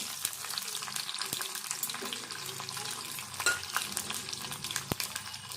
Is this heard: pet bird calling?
no